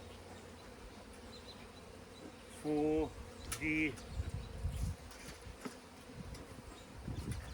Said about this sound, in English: I bought them specifically to get more bees